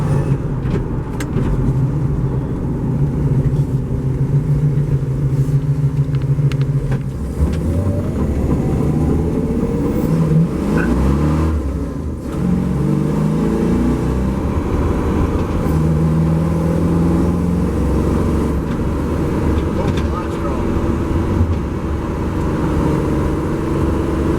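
A Gen 3 Hemi-swapped car cruising in fourth gear at about 1500 RPM, a steady low engine drone with road rumble holding throughout, close and continuous with no talk.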